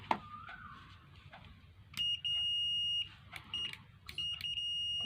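A multimeter set to continuity beeps in several steady tones of varying length while a rice cooker power cable is tested, with faint clicks of the probes between beeps in a quiet room.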